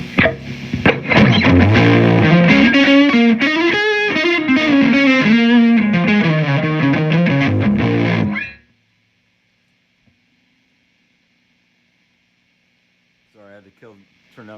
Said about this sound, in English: jump over to the high input side. And we'll go through some different gain tones